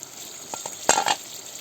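Mushrooms frying in a pan are stirred, giving a couple of light taps and then a brief, loud scraping stir over a low steady sizzle, heard close with no voices.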